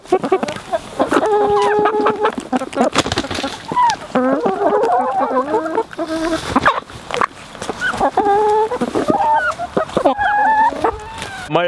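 Several backyard hens cluck and squawk excitedly over a treat of pork cracklings in their food dish, busy overlapping calls close by, with a rooster crowing among them.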